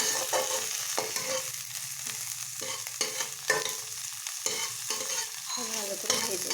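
Tomato and curry leaves fry in a hot pan for poha, a steady close sizzle broken by repeated scraping stirs of a spoon across the pan, with no voices.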